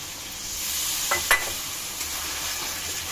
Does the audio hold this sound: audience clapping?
no